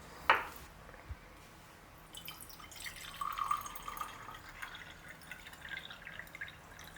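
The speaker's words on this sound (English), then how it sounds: "So I pour my water right at or right above the bottom line." Water poured into the base of an Italian moka pot, starting with a sharp drip and clink, then a soft, uneven trickling stream, faint and close.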